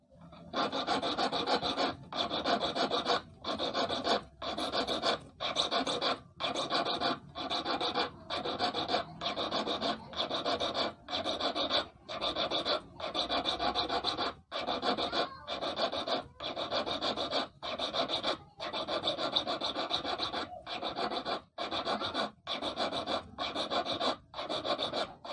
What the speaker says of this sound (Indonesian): lanjut ke kikir setengah lingkaran atau kikir oval.